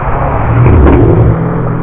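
Road traffic passes outside, a loud, steady low rumble of car engines that swells slightly midway and then holds, with no speech over it.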